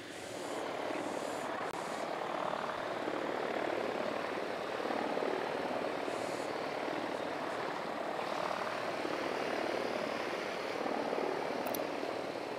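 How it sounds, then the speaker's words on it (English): A drone flies in the video game Ghost Recon Wildlands, a continuous whirring rotor drone with a broad roar that stays fairly steady and moderately loud, with faint clicks over it. "Drone is airborne."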